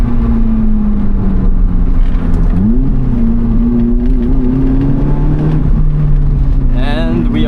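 Engine of a Lotus Elise Cup 250 on a mountain touge road heard from inside the cabin, a steady loud drone whose pitch dips and climbs with shifts and throttle changes, a voice speaking over it.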